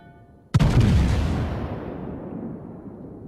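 A single loud, close naval gun blast in World of Warships, a sharp boom that rolls into a long, fading rumble, with no voices.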